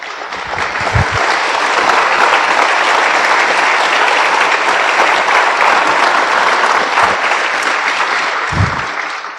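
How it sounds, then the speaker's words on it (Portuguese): A church congregation at a historic service applauds in steady, loud, dense clapping that carries on without pause for several seconds, with a few low thumps. "Glória, palmas ao Senhor."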